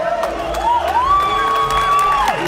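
Crowd at a political speech reacting to mention of Lula with applause and booing, a loud steady roar topped by a long wavering shout or whistle.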